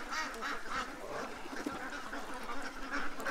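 Ducks gather on a pond edged with bulrushes, a soft, distant chorus of overlapping quacks running steadily throughout.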